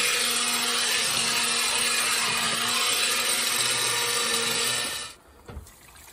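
An immersion hand blender, nicknamed the motor boat, whirs steadily while blending chili in an RV kitchen, a loud continuous buzzing drone that cuts off abruptly near the end, followed by faint clatter.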